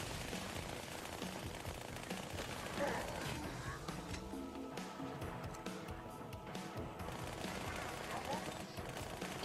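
Rapid gunfire from the Halo Spartan Strike video game, dense bursts of shots layered under game effects and music, continuous and fairly loud throughout with a player's voice occasionally heard.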